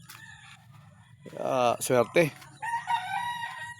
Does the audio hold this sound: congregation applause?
no